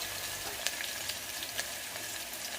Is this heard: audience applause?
no